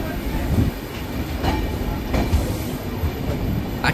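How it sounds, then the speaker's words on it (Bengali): A train pulls out of Bardhaman Junction station, heard from on board. Wheels clack in an even rhythm under a low rumble, with faint background voices. "এই যে ট্রেন বেরিয়ে যাচ্ছে বর্ধমান জংশন ছেড়ে।"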